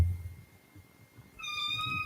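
A tomcat-like cat gives one long, steady meow close by after a brief quiet moment, clear and alone with no voices.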